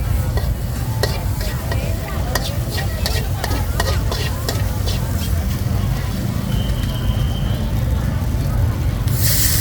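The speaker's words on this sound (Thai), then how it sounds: "เอาเครื่องลงไปผัดแล้วก็ใส่น้ำมัน" Pad thai with shrimp and tofu stir-fried in oil at a temple fair food stall, giving a steady loud sizzle with repeated sharp scrapes and clinks of a spatula against the pan, amid a busy outdoor crowd.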